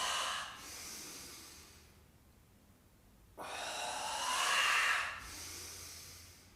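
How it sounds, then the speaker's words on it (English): Slow, deep breaths during a qigong exercise for back pain: a long airy inhale, a short pause, then a fuller exhale, close and soft with no talk. "There's an inhale, here's an exhale."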